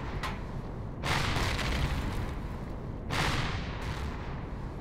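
Laser fire pounds a spaceship in Empyrion Galactic Survival, two loud sustained blasts of noisy roaring impact over a constant heavy rumble, with a few shorter bursts between them.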